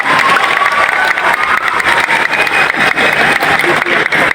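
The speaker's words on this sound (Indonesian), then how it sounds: "Tepuk tangan untuk beliau" A crowd applauds at the opening of a haul gathering at Pondok Buntet Pesantren, welcoming Ganjar Pranowo. Dense, loud, steady clapping fills the whole stretch without pause, with no voices over it.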